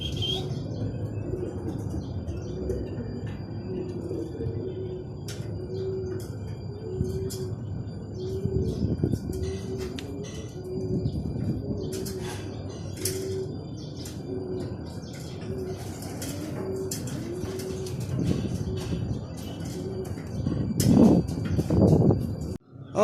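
Racing pigeons coo steadily at the Asuncion loading station in Calamba, Laguna, a thick overlapping chorus of low burbling calls with occasional chirps and a rustle of wings, growing louder near the end, with no one talking.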